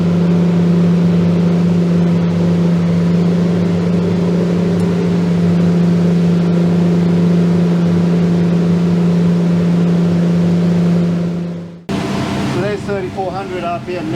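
The outboard engine of a Seaking Hunter 720 runs at steady cruising revs, a loud, constant drone with wind and hull noise, then cuts off abruptly near the end as a voice begins talking.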